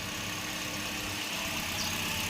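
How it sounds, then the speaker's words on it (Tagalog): A Toyota Avanza engine idles steadily just after starting, a soft, even hum with faint vibration and no talking. "I-start nyo muna yung sakyan nyo ng 2 minutes o 3 minutes."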